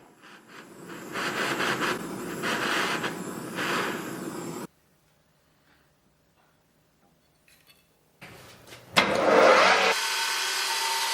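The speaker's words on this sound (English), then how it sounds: "What I'm just doing now in the lathe is filing that face to try and make it half reasonable" A lathe runs at a steady hum and rattle while a file works the face of a part from a 100-year-old bike lamp. The sound cuts out for a few seconds, then starts again with a loud clunk and carries on.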